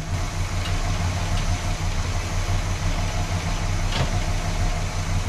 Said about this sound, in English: Let's see what she does when we go into gear